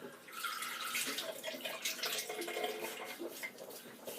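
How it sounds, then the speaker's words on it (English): Faint splashing and running water as water is scooped and patted onto the face before a wet shave, a short burst of irregular wet sloshing close by. "put some water on my face"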